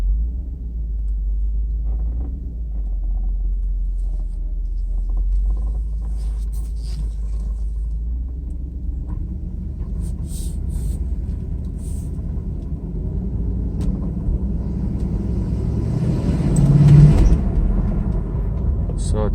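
A Mercedes 500SL drives down a street, heard from inside as a steady low engine rumble with road noise that swells briefly as the car accelerates near the end.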